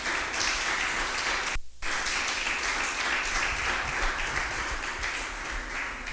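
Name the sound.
congregation clapping as an offering of applause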